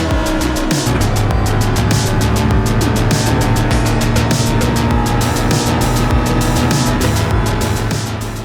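Race car engines roar continuously in Gran Turismo 7 on an oval, a loud, sustained high-revving drone with rapid pulsing as cars run close together, steady throughout and easing slightly at the end.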